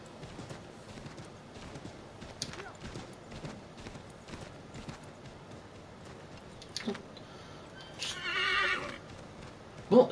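In Assassin's Creed 3 Remastered, hooves clip-clop in a steady rhythm, then a horse lets out a loud whinny near the end, with talking in the background.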